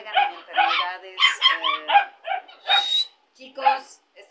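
Several young puppies bark and yip in quick bursts, high and close, with short whimpering yelps between the barks and brief pauses near the end.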